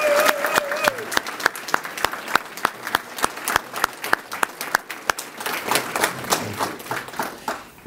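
An audience at a regional high school art awards ceremony applauds the winners, with sharp, evenly spaced claps standing out over a broader crowd clapping. A voice is briefly heard at the start.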